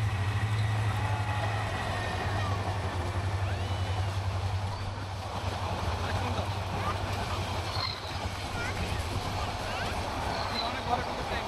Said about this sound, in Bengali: দেখতে পাচ্ছেন গ্যাস, ট্রেন চলে আসছে গ্যাস